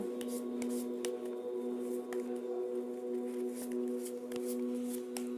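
Tarot cards being shuffled and handled up close, soft rapid riffling and light slaps of card stock over a steady faint hum, with no voice.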